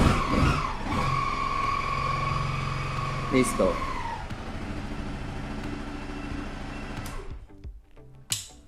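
Honda CBR 250R motorcycle engine starting and settling into a steady idle nearby, with a strong tonal hum that fades out near the end; someone speaks briefly over it.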